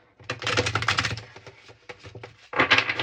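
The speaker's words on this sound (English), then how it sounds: "So let's just shuffle the cards, keep an open mind" Tarot cards are shuffled close up in quick riffling bursts of crisp papery clicks, two main flurries with scattered taps between, no voices.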